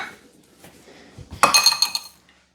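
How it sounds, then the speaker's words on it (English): A small metal kitchen strainer is picked up from among dishes, giving a brief cluster of close, bright clinks and rattles after a quiet moment. "But first, I want to get my little strainer"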